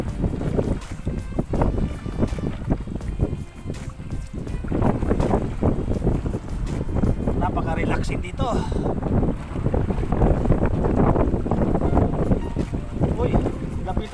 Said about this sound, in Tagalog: sa hangin kasi malakas yung hangin